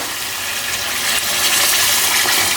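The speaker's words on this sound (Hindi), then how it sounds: "मेरे 2 कप चावल हैं तो मैंने 4 कप पानी डाला है" Water pours into a pot of two cups of rice with vegetables, a steady, loud, close gushing splash that swells slightly as it continues.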